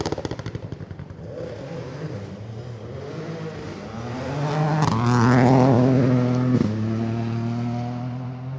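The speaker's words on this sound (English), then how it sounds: "coming through now in this AP4 Yaris" A Toyota Yaris AP4 rally car passes on a stage, engine note rising from distant to a loud nearby roar with revs climbing and a sharp gear change before fading.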